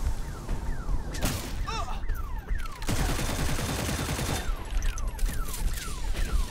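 Rapid gunfire in the video game Bugfall, dense bursts of automatic shots and bangs with descending whooshing effects, loud and nearly continuous, with a voice speaking briefly underneath.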